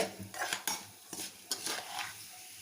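Rice roasting in ghee in a pan, stirred with a metal spoon: a soft sizzle beneath a few sharp scrapes and clinks against the pan.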